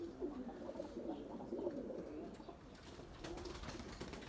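Pigeons coo softly in a low, continuous murmur from a flock kept for a mixed flying session, a faint wash of repeated calls with no talk over it.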